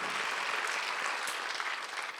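A church congregation applauding during a Sunday worship service: a short, steady wash of many hands clapping together, moderately loud and continuous, with no voices on top.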